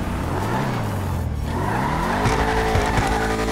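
A Camaro in GTA Online skids on the handbrake, tires squealing loudly over a rising engine note that shifts pitch midway, a few short bursts toward the end.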